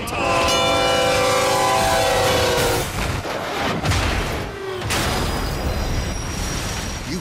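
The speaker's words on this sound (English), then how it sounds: "a million-pound freight train that takes a mile to stop" A heavy freight train rumbles loudly past a crossing, its horn blaring with sustained tones for the first few seconds before giving way to a continuous roar of rolling cars and clattering wheels, with no voices.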